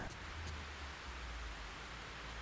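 Rain falls in the horror video game Fatal Frame 3, a faint, even hiss of steady rainfall with no other sounds over it.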